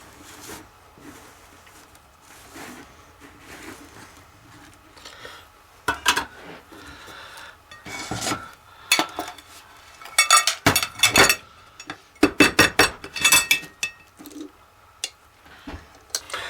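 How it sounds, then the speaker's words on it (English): Knife run around the rim of a chilled flan mold, giving a string of light metallic scrapes and clinks that turn busier and louder toward the end, with no talk. "We'll run a knife around the edge."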